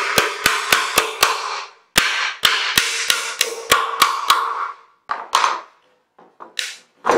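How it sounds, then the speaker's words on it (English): Hammering pieces into a large DIY paper storage craft organizer: a quick run of sharp, close hammer taps, bursts of several evenly spaced strikes with short pauses, ending in scattered lighter knocks. "you can go ahead and hammer the rest of it in"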